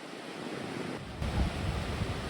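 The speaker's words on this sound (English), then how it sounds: "The sea's looking a little rough today." Rough sea surf at a beach on a promenade at La Arena, Tenerife, a steady loud wash of breaking waves with wind noise, swelling midway, with no voices.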